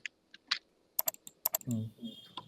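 Someone types on a computer keyboard in short irregular bursts of close, crisp key clicks, and a brief voice-like sound comes in near the end.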